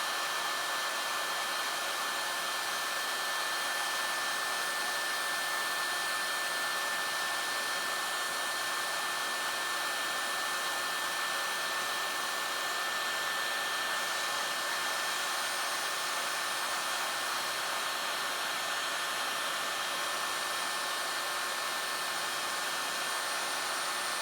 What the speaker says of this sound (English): hold your heat tool about 6 inches from the surface of your project and move it around